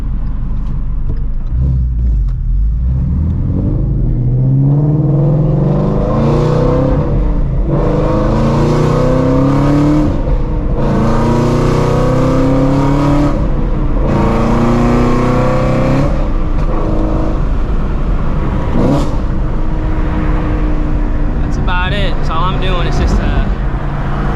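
A Shelby GT350 Mustang pulls out of a large car meet with a loud, rising exhaust roar through repeated revving pulls. People talk over it throughout.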